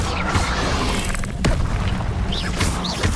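The Incendio fire spell from the game Hogwarts Legacy is cast: whooshing, roaring bursts of flame with a sharp impact crack midway, loud and layered over a dense rumbling bed.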